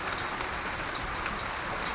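A hailstorm in Calgary's Mount Pleasant neighborhood: a dense, steady patter of hailstones and rain striking surfaces nearby, continuous and fairly loud.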